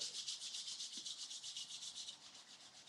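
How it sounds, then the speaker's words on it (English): Two palms rubbing steadily together during a guided relaxation and self-massage practice, a continuous close, soft rhythmic swishing friction that pulses evenly throughout, with no talk. "Gently take your both hands up in there, rub them together."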